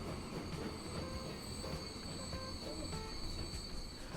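Trains in the Transport Fever 2 game pull out of the depot onto the line, giving a steady rolling rumble with thin wheel squeal and high metallic whine that runs continuously throughout.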